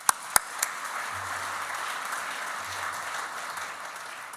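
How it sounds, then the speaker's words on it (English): A crowd at an economic forecast event breaks into sustained applause after a few sharp, close claps, the clapping holding at a fairly even level throughout. "round of applause for Vijay"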